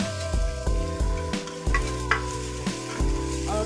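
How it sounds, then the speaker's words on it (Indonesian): Shallots and garlic sautéing in a little oil for fish head soup, a continuous close sizzle broken by periodic scraping stirs, with music playing underneath. "Tumis sampai naik wangi macam tu, sampai dia bau dia cantik."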